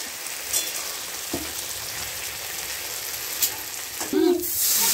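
A mango sour dish simmers and sizzles in a pot over a clay wood-fired stove at home, a steady soft frying hiss with occasional light clinks and stirring, a brief voice near the end.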